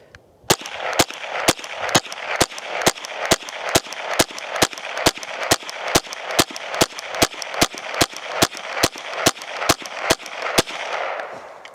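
A Mossberg 702 Plinkster rifle fires a rapid, evenly spaced string of about two dozen sharp, loud shots over roughly ten seconds, with a steady hiss filling the gaps between them.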